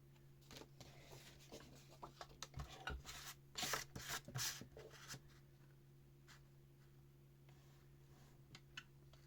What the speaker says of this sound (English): So I only need my mini trimmer for this.